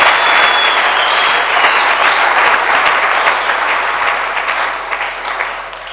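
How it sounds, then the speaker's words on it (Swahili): A church congregation applauds after a scripture reading, sustained loud clapping from a large crowd that stays dense for several seconds before gradually easing off. "Pige makofi kwa sababu ya usomi ya neno la Mungu"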